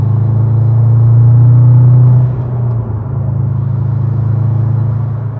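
A Subaru STI fitted with a Sprint Booster V3 throttle controller accelerates, giving a loud, steady, low engine rumble close by. The rumble eases slightly partway through and then holds on, with no talking.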